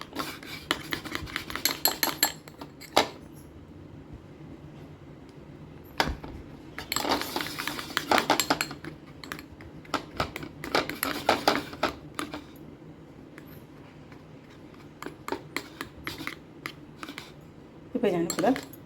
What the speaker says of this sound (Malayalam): ഇപ്പോൾ ഞാനിപ്പോൾ പഴവും അലോവേര ജെല്ലും ഹണിയായിട്ട് നല്ലപോലെ മിക്സ് ചെയ്തു